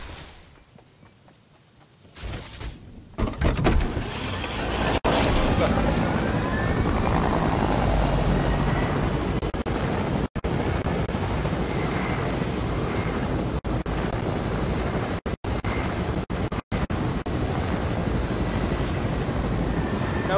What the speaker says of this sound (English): Get back up to the helicopter.